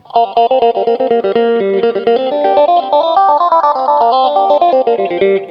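A steady run of picked electric guitar notes with a sweeping, whooshing phaser tone from a Zoom GFX-3 multi-effects unit, loud and even throughout.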